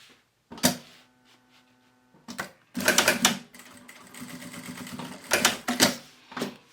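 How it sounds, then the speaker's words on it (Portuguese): Several separate bursts come from a sewing machine stitching through fabric while a small craft holder is being made: short rapid mechanical rattles, close and clear, with quiet pauses between runs. "E agora eu vou costurar aqui."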